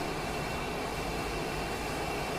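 A fixed-wing airplane's engine drones steadily in flight in Microsoft Flight Simulator 2020, a broad continuous roar holding level and fairly loud with no talk over it.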